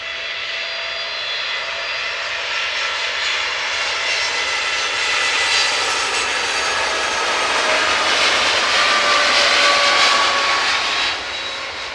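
Boeing Dreamliner airliner at Manchester Airport, its jet engines roaring steadily and loud, swelling toward a peak near the end before easing slightly, with no voices.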